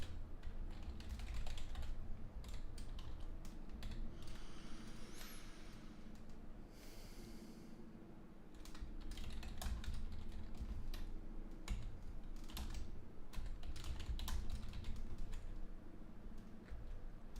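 Steady typing on a computer keyboard, a continuous patter of key clicks running throughout, fairly close with no voices.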